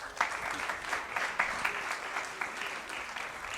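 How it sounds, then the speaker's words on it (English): An audience at an IPR summit claps for a few seconds, a moderately distant, steady patter of many hands. "That's a clap for you to ask the question."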